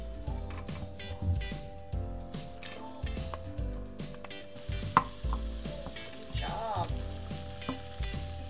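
Onions fry in oil in a pan for homemade nacho dip, a soft steady sizzle with occasional light clicks and stirring taps, quiet and close, with no talking heard.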